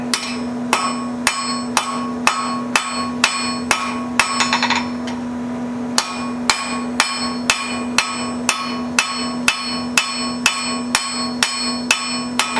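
A hammer forges a spring fuller tool on an anvil, over twenty sharp ringing metal strikes at a steady, even pace, with a brief pause and a scraping sound partway through.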